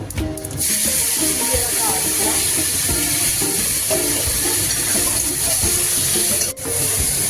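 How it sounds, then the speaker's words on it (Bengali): Dried red chili and bay leaf dropped into hot oil with cumin seeds for tempering, producing a loud, dense, continuous sizzle with a brief dip near the end and no talk. "একটা কাঁচা শুকনো লঙ্কা ফোড়ন দেবো একটু তেজপাতা"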